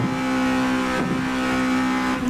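A small car in Roblox Midnight Racing Tokyo revs hard toward 9,000 RPM, a steady high-pitched engine drone held loud and close throughout with a slight dip in pitch midway.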